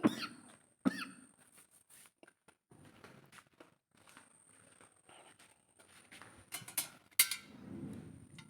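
A few sharp coughs close to the microphone, one at the start and others later, with quiet rustling and shuffling in between.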